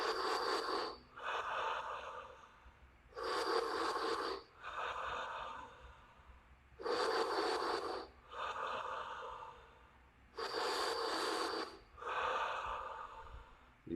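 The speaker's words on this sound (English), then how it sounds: "Bring in the deepest, most fullest breath. Exhale completely down to zero." Slow, deep breaths during a morning breathing exercise: four full inhale-exhale cycles, each long airy inhale followed by a softer, trailing exhale, close and clear with quiet pauses between and no talking.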